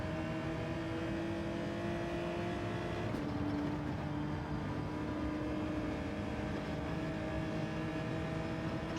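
A Genesis GR3 race car engine drones steadily in Gran Turismo 7 at Lago Maggiore, a continuous loud hum whose pitch shifts slightly as the car runs, with no gaps.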